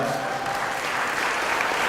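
A brief, loud burst of audience clapping at a mentoring program kickoff event honors the parents present, dense and continuous throughout.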